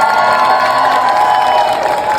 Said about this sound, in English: a round of applause for Johnny, our sound man, who made it sound